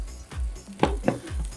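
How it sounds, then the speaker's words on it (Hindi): Bihari kebabs frying in a pan give a steady close sizzle with a few brief stirring or scraping accents, no voices over it. "यहाँ पर हमने कबाब जो हैं तकरीबन अच्छे से फ्राई कर लिए हैं"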